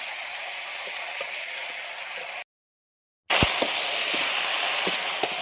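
Potato and pumpkin sautéing in a pan, a steady loud sizzle with small pops and scraping clicks, cut by a brief silent gap before the frying hiss returns.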